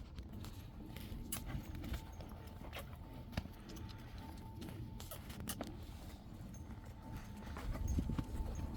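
A horse's hooves clip-clop at a steady walking pace on a dirt road, faint and fairly distant, with sharp repeated hoof strikes over a low background hum.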